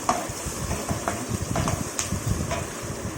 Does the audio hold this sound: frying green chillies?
yes